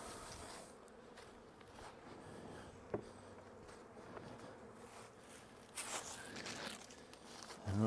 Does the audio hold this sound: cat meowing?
no